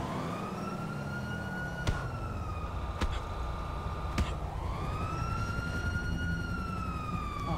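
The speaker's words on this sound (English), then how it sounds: "Oh shit, the ambulance is here." Wailing ambulance siren in the Grand Theft Auto 5 video game, a loud rising and falling tone sustained throughout over road rumble, with a few sharp clicks.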